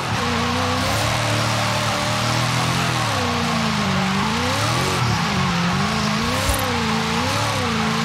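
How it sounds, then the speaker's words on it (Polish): Engine revving with shifting pitch as a car drifts through tight turns in low gear in Forza Horizon 5, steady and loud throughout with tyre-like skidding layered over the drone and no talking. "I znowu kleisz drift i hamulec nożny."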